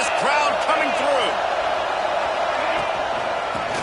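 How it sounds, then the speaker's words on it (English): A loud stadium crowd roars steadily throughout in a college football video game, with a commentator's voice speaking over the din. "listen to this crowd coming through"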